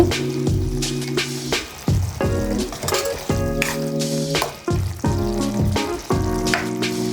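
Dry fish curry cooking in a pan, with steady sizzling and bubbling broken by repeated stirring or scraping strokes in an uneven rhythm, close and loud with no talking.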